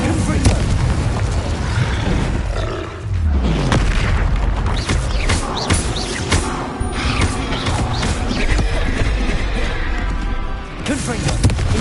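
Repeated booming blasts of the Confringo fire spell in the video game Hogwarts Legacy, loud and dense, with explosive thuds overlapping throughout and voices mixed in.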